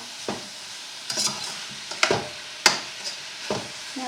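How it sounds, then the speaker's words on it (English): Fajita spices being stirred in a hot pan over high heat, a few distinct scraping strokes spread over several seconds against a soft sizzle, close and fairly quiet with no talking. "Mix up these spices."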